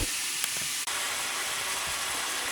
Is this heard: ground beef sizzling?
yes